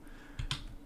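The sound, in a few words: typing on computer keyboard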